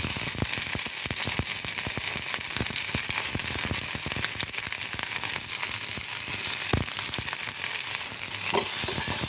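Onion, green chillies, curry leaves and ginger sizzle and crackle in hot oil for a vadukapuli lemon pickle, with steady loud frying broken by scraping stirs and sharp pops throughout.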